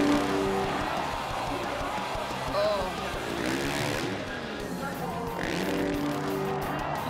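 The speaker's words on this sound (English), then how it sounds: "You can hear him just revving out of that second rotation" A freestyle motocross bike engine revs hard as the rider lands from a second rotation at a Nitro World Games best-trick contest, rising and falling whines under a roaring crowd and talk.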